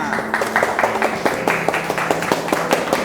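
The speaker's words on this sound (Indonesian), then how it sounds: "tepuk tangan untuk kita semua." Scattered clapping from a small group in a classroom, fairly close and steady, with a faint sustained musical tone underneath.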